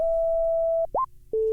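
A voice imitates a sine wave synth with glide: a long steady pure tone, then a short tone sliding upward, then another held pitch, all close and fairly loud with no other sounds.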